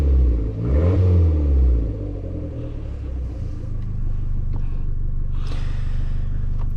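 An Abarth 500 engine drops from a loud revving rumble in sport mode to a steadier, lower drone as it keeps driving out of sport mode.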